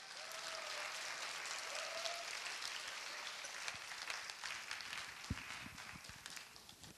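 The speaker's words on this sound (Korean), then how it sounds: "우리 여러분 뜨거운 환영의 박수로 우리 목사님을 맞아주시기 바랍니다." A church congregation at a Sunday youth worship service gives a warm welcoming round of applause for the pastor, steady broadband clapping that fills the room for several seconds with a few sharper claps near the end.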